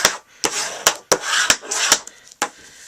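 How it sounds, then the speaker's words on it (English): Burnishing a scored Poppy Parade cardstock card base, quick close scraping rubs in bursts separated by sharp taps, about six strokes in rapid succession. "So we are going to give this a nice burnish."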